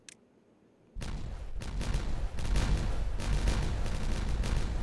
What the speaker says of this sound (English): let's detonate this